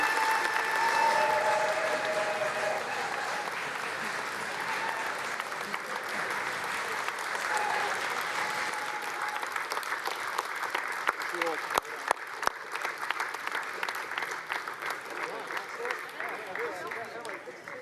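A crowd at the Makerfield by-election count applauds at length after the winner's victory speech. Sustained clapping with scattered cheers carries on while a voice talks over it.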